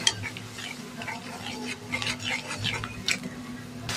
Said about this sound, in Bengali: মশলাটা ভালো করে কষে নেবো।